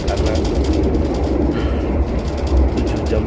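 Inside the Argo Dwipangga Luxury passenger train while it is running, a loud continuous low rumble of wheels on rails with steady rattling and rhythmic clatter filling the carriage.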